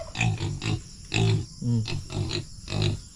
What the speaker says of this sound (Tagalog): Ayan yung mga baboy namin oh.